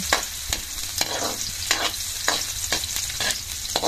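Garlic and onion frying in oil in a pan, a continuous close sizzle broken by rhythmic scraping stirs roughly every half second, with no voices.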